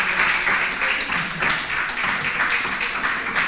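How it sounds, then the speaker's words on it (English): An audience gives warm applause to a speaker at a talk, dense continuous clapping filling the room, loud and close, with no voices over it. "So warm applause."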